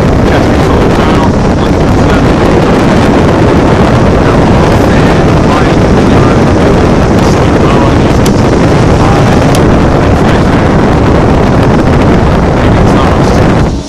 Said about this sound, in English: She's blowing nice and strong, blowing ice cold air out.